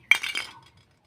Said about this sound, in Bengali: এবার নাড়ো ভাজা করে নাও